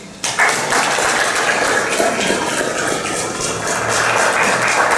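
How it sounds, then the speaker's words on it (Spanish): An audience applauds steadily after a university lecture on inclusion in teacher training, a dense, even clatter of many hands lasting the whole stretch, with a faint voice beneath. "podemos dar un aplauso"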